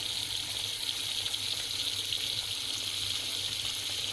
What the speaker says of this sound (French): vous remplissez d'eau